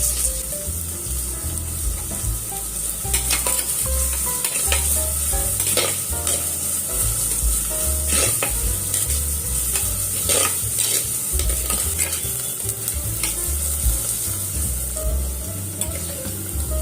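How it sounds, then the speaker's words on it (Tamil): Two finely chopped medium onions fry in hot oil with cinnamon and cloves for chicken handi, a loud, steady sizzle broken by repeated spoon-scraping stirs, with no talking. "வெங்காயம் நல்லா வதங்கிருச்சு."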